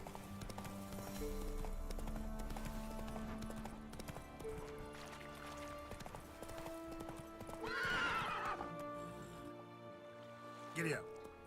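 Hooves clip-clop at a steady gallop for Geralt's horse in The Witcher, with a whinny partway through, under continuous game music and ambience; someone talks intermittently over it.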